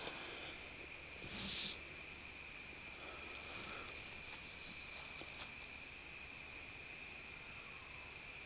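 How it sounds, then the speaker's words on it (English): A brief screech owl call rises once near the start over a steady hiss of night insects in a forest and background noise, faint and distant. "I don't know if you can hear that, if that's a screech owl."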